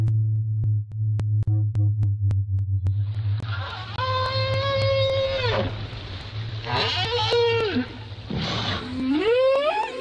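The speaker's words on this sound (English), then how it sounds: "the whales were speaking amongst themselves, as were most of the creatures of the sea" Whales call underwater in a series of drawn-out tonal moans and upsweeping whistles, with rich harmonics, beginning after a few seconds over a steady low hum, with no talk.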